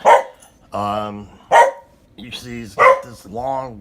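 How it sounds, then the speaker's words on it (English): A dog barks sharply indoors in three loud, evenly spaced bursts, close to the microphone, alternating with someone talking in between. "Sorry about my dog there going crazy while I'm making this video."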